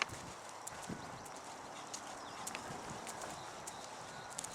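A ridden horse's hooves clop in a steady, even trotting rhythm on soft ground, moderately close, with no voices.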